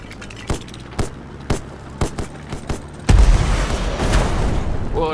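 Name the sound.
torpedo explosion in the video game Black Skylands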